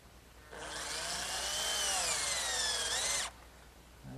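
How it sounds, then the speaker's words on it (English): A power drill driving a screw partway into wood to start a pilot hole in a workshop, one steady rising whine of about three seconds over quiet background, no talk. "I'm just going to take a screw and partially drive it in to sort of give me like a pilot hole"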